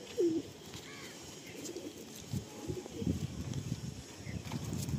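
Madrasi pigeons at a Kolkata sale coo in low, intermittent phrases against a steady background hum, fairly faint and close, with no talking.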